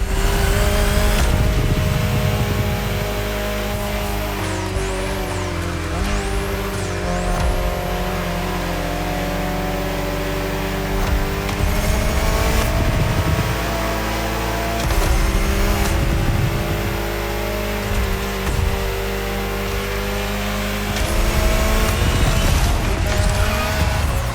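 Alpine hydrogen-powered concept car driving in The Crew Motorfest, a loud continuous engine roar that rises and falls as it revs and shifts, with brief tire squeals at a few points.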